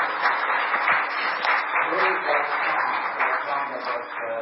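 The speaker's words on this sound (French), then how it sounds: "On devrait les applaudir" Applause for a church music team during a sermon, a steady wash of many hands clapping that fills the whole stretch at moderate level, with faint voices mixed in.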